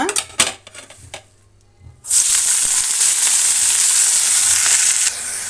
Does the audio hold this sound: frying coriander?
yes